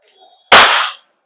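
A single sharp shot from a WE Glock 17 Gen 4 airsoft gas blowback pistol cracks out loud and close, a bright burst that rings briefly before cutting off.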